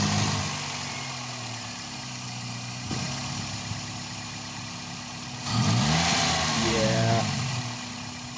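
A clean, well-kept Toyota car engine runs close by, idling with a low mechanical hum before it revs up in a rising, throaty burst. Voices talk briefly over the engine.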